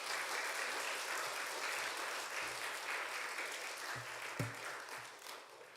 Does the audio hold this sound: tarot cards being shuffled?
no